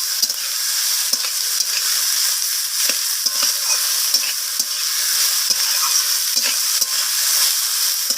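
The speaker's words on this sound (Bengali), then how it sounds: "আমি সয়াবিনগুলোকে টমেটোর সাথে আমি নাড়াচাড়া করে ভাজা ভাজা করে নিচ্ছি" Soya chunks and tomatoes stir-fried in a pan give a steady close-up sizzle, with repeated scrapes and clacks of a spatula stirring through the frying.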